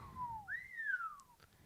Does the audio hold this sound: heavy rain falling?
no